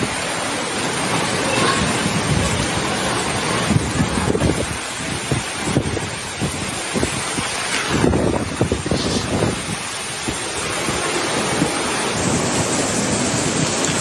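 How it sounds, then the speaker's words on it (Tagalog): Strong ocean waves and wind during a super typhoon in Batanes make a loud, continuous roar with surging gusts and crashing surf throughout, with no one speaking. "Oh, malakas ng alon."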